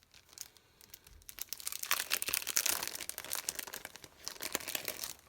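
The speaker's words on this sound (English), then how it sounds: "Apologies for all the rustling noises." Paper and packaging crinkle and tear while vintage ephemera such as postcards, notes and stamps are unwrapped, a dense run of close, crisp rustling that builds after a quiet start and stays busy to the end.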